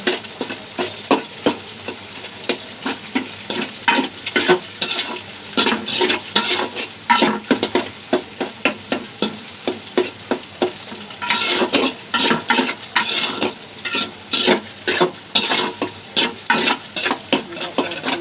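Egg being stir-fried and scrambled in a pan for fried rice, with rhythmic spatula scrapes and clinks over a continuous sizzle, close and fairly loud, with no voices.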